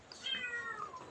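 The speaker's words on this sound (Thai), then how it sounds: "เหมียวมาใหม่ร้องแง่อยู่ไหน" A newly arrived kitten gives a single short, high, falling meow, close and clear against a quiet background.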